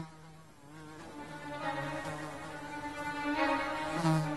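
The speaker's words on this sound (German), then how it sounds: "Wenn die Fliege beschließt zu fliegen." A housefly buzzing in flight, a continuous droning hum with wavering pitch that swells and fades as it moves, close and fairly steady throughout, with no voices.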